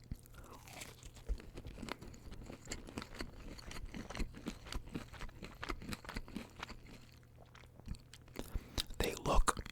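Soft, subtle crunching and chewing of Wendy's fried chicken tenders close to the mic, a series of gentle bites with quiet mouth sounds and faint whispery breaths between them.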